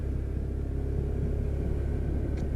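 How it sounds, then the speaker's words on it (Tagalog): Loud, continuous low thunder rumbling during a dark rainstorm, a steady deep roar that fills the clip with no voices. "sobrang lakas ng kulog."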